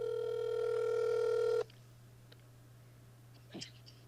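A phone line gives a loud, steady electronic tone for about a second and a half as a speakerphone call is placed, then cuts out, leaving faint hum and a few soft clicks.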